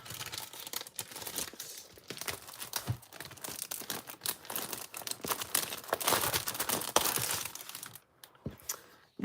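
Foiled Easter-themed specialty paper being handled, giving continuous crisp crinkling and crackling close up, with brief sharper tearing-like rustles and a short lull near the end.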